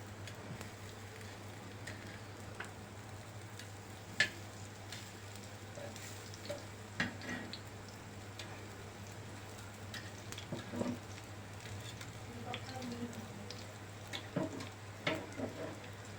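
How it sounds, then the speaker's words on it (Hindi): Arbi (taro) leaves fry gently in a pan on a low flame, a faint, soft sizzle with scattered crackles and small pops, quiet and close throughout. "3 मिनट इस तरफ से फ्राई करेंगे।"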